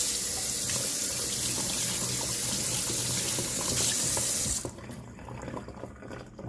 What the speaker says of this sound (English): Now let me rinse my hands.